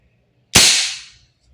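A single sharp semi-automatic shot from an Umarex HK416D Gen 3 airsoft gas blowback rifle, a loud close crack with a hissing tail that decays over about half a second in an otherwise quiet space.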